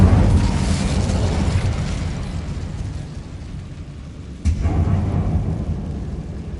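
An Incendio fire spell cast in Hogwarts Legacy inside a web-filled goblin mine, a roaring, rumbling blast of flame that slowly dies away, then a second sharp burst flares up and keeps rumbling.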